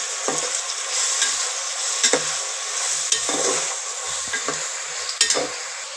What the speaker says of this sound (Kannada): ಎಲ್ಲ ತರಕಾರಿ ಎಣ್ಣೆಯಲ್ಲಿ ಸ್ವಲ್ಪ ಫ್ರೈ ಆಗಬೇಕು